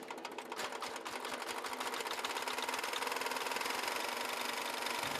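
A 6.5 horsepower diesel engine drives a soil crusher, running steadily with a fast, even mechanical chatter that holds at a constant close level throughout, with no voices.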